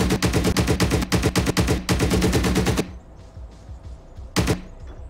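Heavy vehicle-mounted gun on a BRDM armored car in a military video game fires in several rapid bursts, loud and close, then falls quiet before one last short burst.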